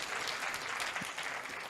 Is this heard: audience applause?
yes